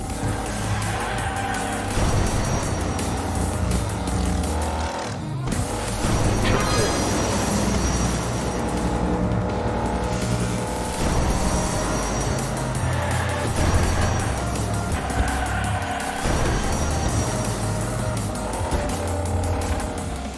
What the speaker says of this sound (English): the sound design of racing and how the music interacts with racing